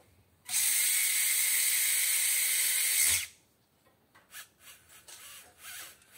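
A Lego Technic motor drive whirs loudly and steadily for under three seconds with a whining tone, then cuts out abruptly when its shaft breaks, leaving faint scattered clicks and handling noises.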